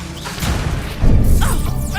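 Spell effect of the Leviosa charm in Hogwarts Legacy on PS5: a dense, crashing magical burst with a swishing tail that swells sharply about halfway through and stays loud to the end.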